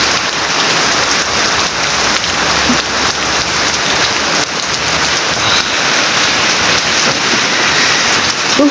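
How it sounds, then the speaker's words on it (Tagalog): Heavy rain pours down in a dense, unbroken roar of drops hitting surfaces close by, steady and loud for the whole stretch with no voices. "Yan, lakas ng ulan dito."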